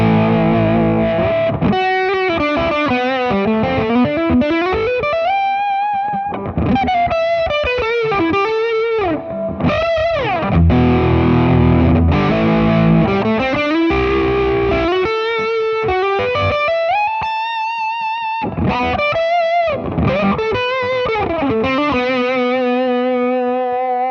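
Electric guitar played through a BOSS Katana amp with a JHS Andy Timmons overdrive pedal, starting from a clean tone, gives a continuous distorted melodic line with sustained bends, chorus-like shimmer and reverb, loud and steady for the whole passage without talk.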